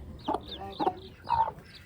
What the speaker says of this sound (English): We have two baby chicks.